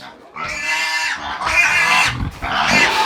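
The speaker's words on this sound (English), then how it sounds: "We've got some hungry pigs." Hungry pigs squeal and grunt loudly in a crowded farm pen, three long overlapping bursts of shrill squealing close by with brief lulls between.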